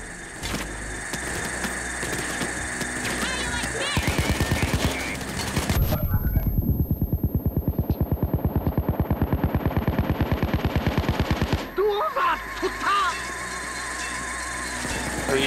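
Automatic gunfire in PAYDAY 2 rattles in loud, rapid, evenly spaced shots that run for several seconds in the middle, set between dense game noise and scattered shooting, with no voices over it.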